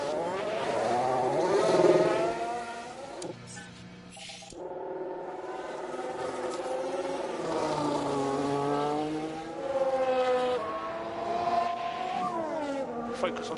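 Formula 1 cars at the race start at Spa in F1 Manager 23 rev and whine through rising and falling engine tones, loud and near, as someone talks over part of it.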